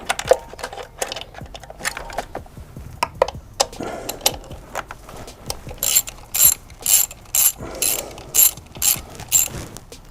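A hand ratchet clicks in short repeated bursts while undoing a valve cover stud on a BMW N54 engine, close and crisp, the strokes becoming a steady back-and-forth rhythm in the second half.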